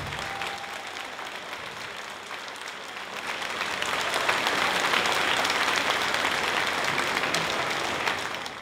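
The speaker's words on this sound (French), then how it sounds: "Vous les accompagnez sous vos applaudissements nourris" Sustained applause from a cabaret theatre audience, dense clapping that grows louder midway and stays full and steady, with a faint sustained tone early on.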